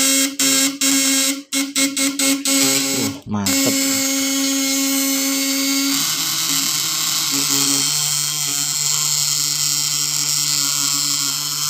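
A loud, steady electrical buzz from a high-voltage electric fish shocker with its probe dipped in water, broken by a few quick stuttering bursts at the start, then settling into a continuous high drone. A brief voice is heard.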